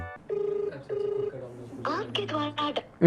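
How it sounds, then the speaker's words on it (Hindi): A phone line rings with two repeated electronic bursts, then warbling tones and a short burst of voice-like sound at the end. "रुको गौतम भाई को फोन मिलाता हूँ मैं।"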